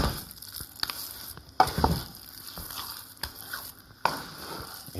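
Thick biko, a sticky rice cake, being stirred in a pan, with steady close sticky scraping and squishing, some sharper scrapes and a faint sizzle underneath, and no voices.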